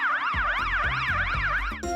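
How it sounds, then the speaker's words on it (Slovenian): A fire engine siren wails loudly in fast rising and falling sweeps, repeating rhythmically, with a deep engine rumble beneath; the tone shifts abruptly at the end. "to je bil zvok gasilskega vozila"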